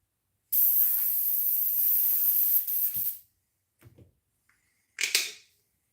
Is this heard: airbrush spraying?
yes